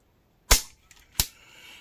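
Dry-fire trigger pull on a Girsan Regard MC pistol: a sharp, close metallic snap, then a faint tick and a second crisp click about 0.7 seconds later, with no voices.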